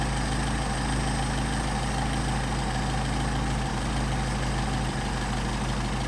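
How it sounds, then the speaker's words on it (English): A Mercedes 190SL engine on Solex 44PHH carburetors runs steadily and loudly up close, its dense, even idle showing a couple of brief dips where it stumbles. "Engine's starting to stumble again, almost died"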